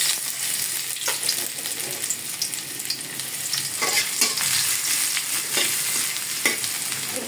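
Sliced onions fry in hot oil for a stinging catfish bhuna, giving a steady loud sizzle with stirring scrapes and crackling bursts scattered throughout.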